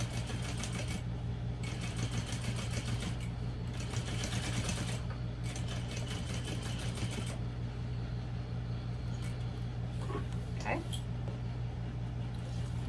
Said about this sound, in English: I'm sewing through the exterior, the foam, the lining,